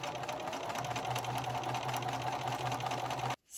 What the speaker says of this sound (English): Stitch forward and then back and continue sewing this side.